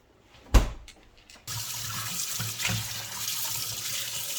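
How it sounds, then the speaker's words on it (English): Cold tap water runs into a sink while lamb pieces are washed for a karahi curry. A single thump comes first, then the water starts and pours in a steady, close splashing stream. "Wash with cold water, not hot."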